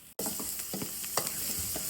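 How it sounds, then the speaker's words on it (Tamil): Onions and crushed garlic sauté in hot oil for a traditional Tamil vaalai fish curry, giving a steady close sizzle with scraping stirs after a brief silent gap at the start. "வெங்காயம் வதங்கத்தையும் பூண்டை தட்டி சேர்த்துக்கிறோம்"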